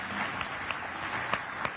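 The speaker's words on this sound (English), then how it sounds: "yeah, you can clap for that" Applause from an audience at a city's State of the City address, a steady broadband patter of claps with a few sharper individual claps standing out, moderately quiet and continuing throughout.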